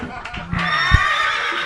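A horse neigh sound effect plays during a live comedy show, a loud, shrill whinny that rises and trails off over a brief moment, with a voice briefly heard alongside.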